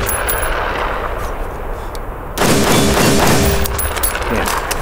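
Gunfire from a retro-style short-barreled rifle built with modern components, a loud sustained burst of rapid shots that starts abruptly partway through after quieter background noise, close and dense with little gap between reports.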